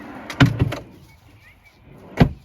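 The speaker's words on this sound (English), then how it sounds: "To put the drawers back in we have to push down the tabs." Drawers are pushed back into a cabinet in a Toyota HiAce Vantour camper van, with a cluster of three sharp knocks early on and a single loud thump near the end, close by with quiet gaps between.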